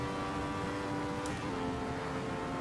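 A Ferrari 312T race car engine drones loudly and steadily as it climbs the Nordschleife circuit in a VR racing video game, a constant high-revving tone with slight pitch shifts.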